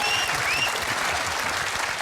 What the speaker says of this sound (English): Ladies and gentlemen, give me a round of applause.